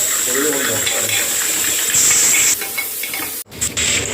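Spice tempering sizzles and hisses in a frying pan while home cooking a meal of greens, a bright steady fizz with stirring clatter and one sharp knock, under background chatter.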